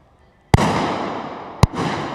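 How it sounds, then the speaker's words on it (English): A sniper rifle fires from a balcony at a SWAT challenge, giving two sharp cracks about a second apart, each followed by a loud rolling echo. "That's the first shot away from the balcony."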